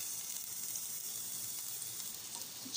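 Garlic sizzling and frying in hot oil with patis for chicken binakol, a steady crackling hiss that holds evenly throughout with no talking.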